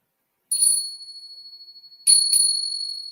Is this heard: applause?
no